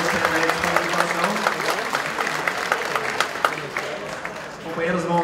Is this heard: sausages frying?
no